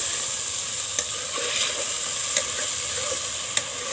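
Tomatoes frying with mutton in a pan, a steady close sizzle with soft stirring scrapes and a few sharp utensil taps, no talking.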